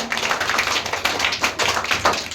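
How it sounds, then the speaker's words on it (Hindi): An audience at a Hindi quiz show breaks into brisk, continuous applause for a team, dense clapping close and loud throughout. "टीम मंजरी की ओर से एक बार जोरदार तालियां।"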